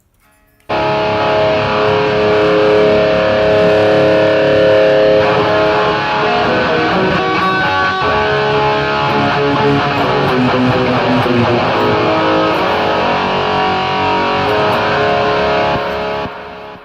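Distorted electric guitar plays through a Boss eBand JS-10 set to a preset tone, a loud, saturated rock riff with sustained chords and bright lead notes running continuously for about sixteen seconds.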